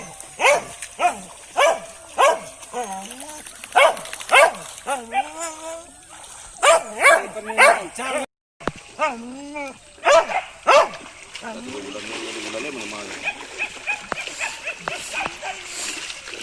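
Dogs bark and yip around a livestock bathing place at Stadion Utama Riau, with water splashing and people talking loudly over much of the scene.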